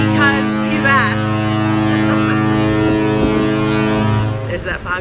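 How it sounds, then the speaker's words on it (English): A deep, loud foghorn blares continuously from a ship on the Alaskan coast, a sustained low droning blast that fades near the end, with a voice speaking over it and wind buffeting the microphone. "There's that foghorn again."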